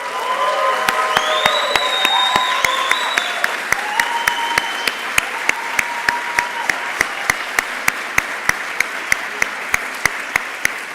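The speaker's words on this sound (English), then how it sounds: "let's give them a nice round of applause." Sustained, full applause fills a hall at a master's graduation ceremony as Dean's List graduates stand, with a few sharper individual claps popping out regularly above the crowd's steady roar and some brief vocal sounds early on.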